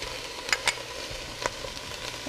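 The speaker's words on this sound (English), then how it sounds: "Our onions are sizzling and softened, and now it's time to add the garlic." Onions and garlic frying in butter in a pan give a quiet, steady sizzle, broken by a few sharp crackles and pops at irregular intervals.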